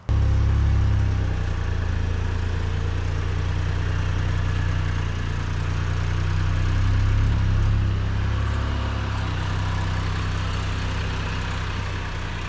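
A car idles and rolls slowly backward and then forward over a set of five two-channel rubber cable and hose protector ramps, a steady low engine rumble running throughout with no distinct bumps standing out.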